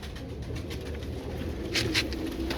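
Royal Teddy pigeons cooing in a loft, soft low repeated coos over a constant background murmur, with a couple of brief sharper flutters or calls near the end.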